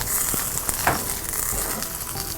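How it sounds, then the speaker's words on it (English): Oil sizzles steadily on a Blackstone flat-top griddle, a close, continuous hiss with faint scraping and a brief clatter near the middle, no voices. "We're gonna throw down a little more oil."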